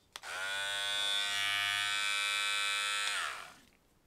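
A Biltema electric trimmer switches on with a click and runs as a steady, fairly quiet high-pitched buzz for about three seconds before switching off and winding down.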